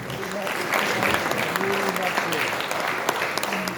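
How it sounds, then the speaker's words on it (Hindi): An audience at a stage actors' awards ceremony claps in steady, dense applause that holds for several seconds, with a voice faintly over it. "फिर जोर से तालियां बजाएं"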